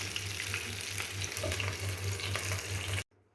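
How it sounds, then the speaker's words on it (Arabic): Chicken frying in a pot, a dense continuous sizzle with a low hum underneath, running steadily for about three seconds before stopping abruptly. "وهولع عليها بقى ونحمر فراخنا بقى"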